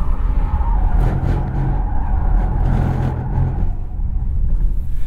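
A 2023 Nissan Ariya electric car pushes through attempted donuts, with loud, sustained tire scrubbing and squealing that rises and falls over a low rumble, close and continuous throughout.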